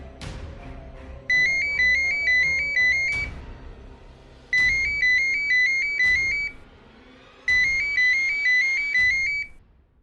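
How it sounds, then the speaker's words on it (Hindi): A ringtone plays a bright repeating electronic melody in three bursts, loud and close, with short pauses between. "तभी उसका फोन बजा"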